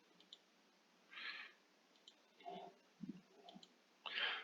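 Computer mouse clicks at a desk, several soft, close clicks spaced irregularly through a quiet room, with faint voice sounds between them.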